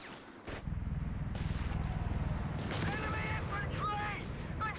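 Mortar fire and explosions in Company of Heroes 3, a dense rolling barrage of booms and blasts with crackling detonations and higher whistling effects, loud and continuous behind faint game sounds.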